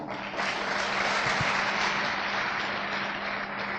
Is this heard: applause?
yes